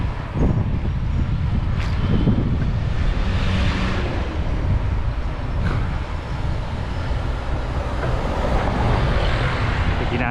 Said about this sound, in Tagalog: Medyo may sumasalubong na hangin